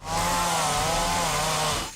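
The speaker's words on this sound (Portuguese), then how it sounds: "A grandiosa cena da lixadeira na cara." An angle grinder or sander whines loudly and steadily, close up, for about two seconds during a gory horror film scene set in a swamp, with a grinding buzz and no talk.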